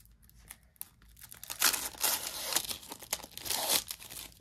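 Plastic packaging of a baseball card pack is torn and crinkled up close, a few sharp rips followed by longer crackling bursts of wrapper being pulled apart.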